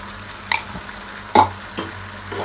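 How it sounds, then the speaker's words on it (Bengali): Ground cumin and coriander stirred and frying in a pan for a mixed vegetable curry, with a few soft scrapes and brief sizzling bursts over a low steady hum. "খুব ভালো করে এগুলো একটু মিশিয়ে নেব আর এটা দু মিনিট একটু ভাজবো"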